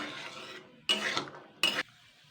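A spatula stirs peas frying in a pan on medium heat, with two sharp scraping strokes over a faint sizzle.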